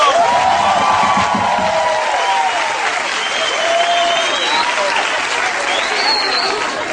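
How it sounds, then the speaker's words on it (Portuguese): A church congregation claps loudly and continuously for Jesus Christ, with cheers and whoops rising through the sustained applause and voices calling out over it. "Quem pode aplaudir Jesus Cristo?"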